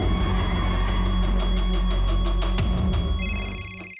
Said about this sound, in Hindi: फोन तो अंदर बज रहा है।